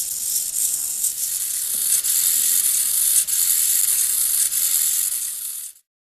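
Small hobby servos driven by an Arduino Nano swing a conductor figure's head in a random left-right sweep, giving a steady high whirring buzz with slight shifts as direction changes, close and continuous, then cutting off abruptly.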